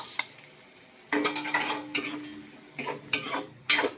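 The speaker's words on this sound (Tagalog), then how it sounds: "So, igisa na rin natin yung ating dilis." Dried anchovies (dilis) sauté in hot oil for laing, a sizzle broken by several loud bursts of spatula scraping and clattering against the pan, close up and without talk.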